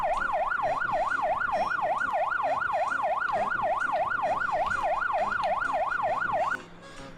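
A police car siren in a video game wails loud and close, rising and falling in a fast, regular cycle, then cuts off abruptly near the end, leaving quieter background noise.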